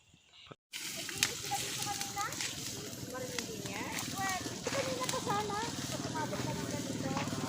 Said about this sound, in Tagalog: Sunog po dito sa mga ringin-dingin mga kapatid.